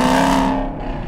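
Chevrolet Camaro engine pulling hard in second gear, a strong steady harmonic drone that holds loud and close with a slight fade toward the end, no voices over it.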